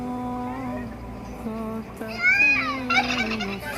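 Ducks in a date palm garden give a series of harsh, fowl-like calls, close and fairly loud, with louder squawks toward the end over faint background activity.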